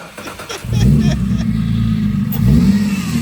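A Nissan 350Z with a clutch that needs bleeding revs loudly and close, holding a rough, steady note before the engine falters and stalls, with voices nearby.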